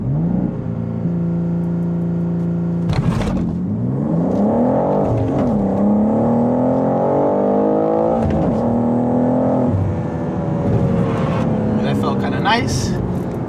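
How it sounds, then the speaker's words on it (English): A BMW G87 M2 doing a launch-control start: the engine holds a steady high idle, then revs rise hard through several loud gear shifts, close and continuous, with a person talking over parts of the run. "That's when you'll pop the clutch, and then you can take off."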